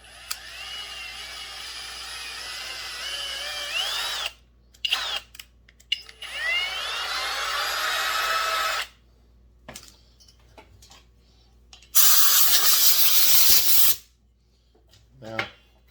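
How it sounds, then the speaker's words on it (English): A power drill bores a 150-thousandths hole in a part during a Husqvarna 357XP chainsaw rebuild. A loud, steady two-second whine comes near the end, after stretches of scraping and clattering workshop handling. "we're going to drill it a 150 thousandths"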